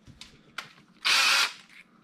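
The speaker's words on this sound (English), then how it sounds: "I'm just going to continue tapping and drilling this thing." A small drill bores into a diecast toy car during a wheel swap, giving a short, sharp whirring burst of about half a second after a few faint clicks, with no talking.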